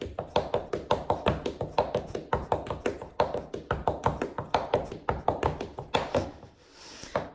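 Fast step dance footwork taps out a rapid, even rhythm of crisp hard-soled strikes, loud and close, running continuously before a brief pause and a final shuffle.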